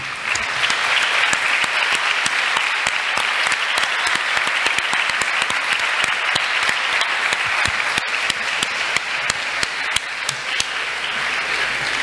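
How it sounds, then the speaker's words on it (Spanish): A poetry and arts festival crowd applauds Clara Mercedes Arango, sustained dense clapping from many hands that runs steadily for the whole stretch with no voices over it. "aplauso."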